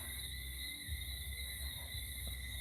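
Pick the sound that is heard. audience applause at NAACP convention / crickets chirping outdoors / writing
crickets chirping outdoors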